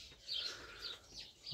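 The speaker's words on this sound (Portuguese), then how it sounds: "Ali tá cheio de passarinho." Small birds chirp in a sunny vegetable garden, a few faint high tweets repeating over soft outdoor background.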